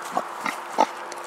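A pig grunts in short, nasal bursts, three or four quick snorts in close succession, heard close up over a steady background hum.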